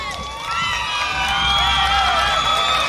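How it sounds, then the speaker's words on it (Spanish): A crowd at a contest in Ponciano Arriaga cheers and shouts for the first contestant, a dense, loud wall of voices with high whistling cries that swells and holds steady for about three seconds. "vamos a enviar los aplausos para la participante número uno"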